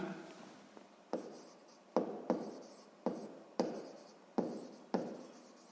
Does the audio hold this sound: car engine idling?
no